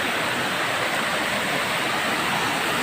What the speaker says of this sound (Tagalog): Madire Falls.